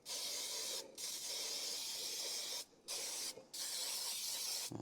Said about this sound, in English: Just spray your pan really well.